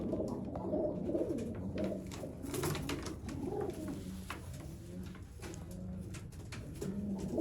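Sialkoti pigeons cooing steadily, soft overlapping throaty coos repeating close by over a constant low background, with no talking.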